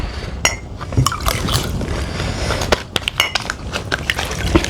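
Water splashes into a glass during a food eating challenge, with scattered sharp glassy clinks and liquid sloshing over a busy background, fairly loud and close.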